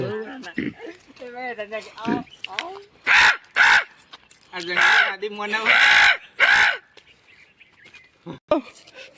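A person imitates a crow's cawing with several loud, harsh bursts in a row, mixed in with ordinary talking before and between them.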